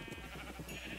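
A sheep in the video game Minecraft gives a brief, wavering bleat, faint against a steady background hum.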